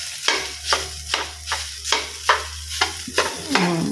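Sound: leftover egg frying with rice in pan

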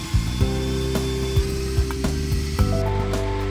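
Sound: drill-powered aircraft tug gearbox running

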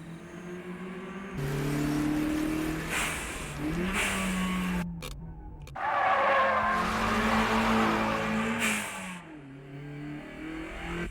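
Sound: car drifting sideways through a corner at low speed

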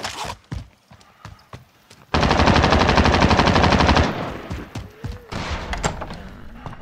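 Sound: gunfire in Call of Duty Warzone video game

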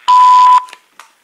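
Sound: AT&T SynJ SB67118 answering machine message tone

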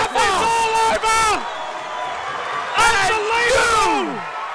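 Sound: crowd cheering at XFC 36 fight

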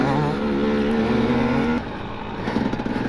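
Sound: enduro motorcycle doing a wheelie

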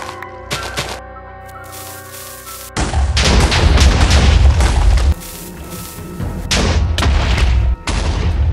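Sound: firecrackers exploding in Minecraft, video game

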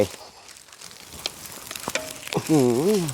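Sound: eggs frying in a wok

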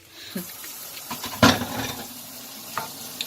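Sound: kimchi and onion stir-frying in a pan

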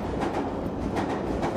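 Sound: London Underground Piccadilly line train passing

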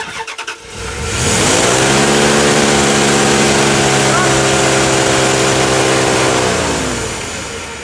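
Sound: truck engine revving with throttle stuck open

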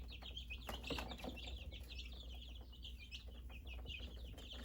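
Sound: two-week-old chicks cheeping

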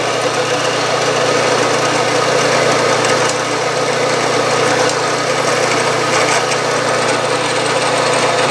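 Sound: center drilling brass casting

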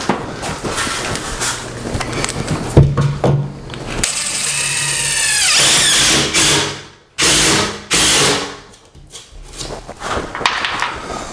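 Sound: Ridgid R4512 palm driver driving screws into backer board

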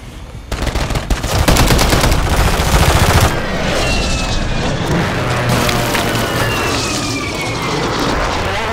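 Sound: airstrike gunfire and explosions from the video game Warzone

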